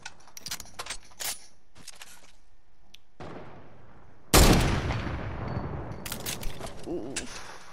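Gunfire from a Fortnite Creative match: scattered sharp cracks early, then a loud blast at mid-clip that trails into a noisy, rumbling tail with more shots, heard close and without talking.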